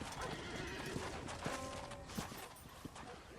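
A horse's hooves clip-clop at a walk in the Western video game Red Dead Redemption, a run of moderately close, regular knocks with a faint whinny, and low game voices and ambience underneath.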